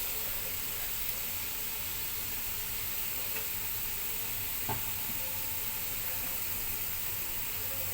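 Ginger, onion and garlic frying in a pan as the base for chicken soup with green papaya and moringa leaf, a soft steady sizzle with a brief clink partway through.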